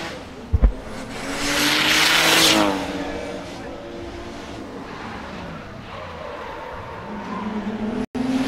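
A 450-horsepower Mazda RX-8 race car during qualifying at Sochi revs hard and then settles into a steady engine drone, followed by a fainter pass, loud and fairly close.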